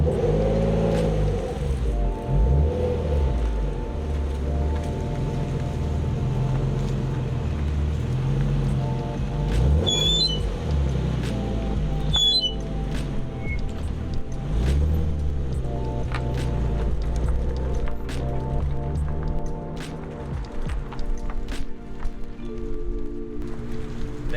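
A car just started after a month in storage idles and warms up, its steady engine drone wavering through slow rises and dips in revs, close and loud with light clicks on top.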